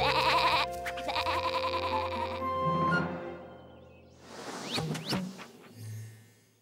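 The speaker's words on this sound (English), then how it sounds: "Little Bo Peep lost her sheep" A sheep bleats, a wavering cry rising over background music and sound effects, followed by another bleat.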